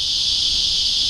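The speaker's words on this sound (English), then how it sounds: "There's so many cicadas here." Loud, steady insect drone of cicadas beside a lake, a dense continuous buzzing chorus that holds unbroken throughout with no pauses.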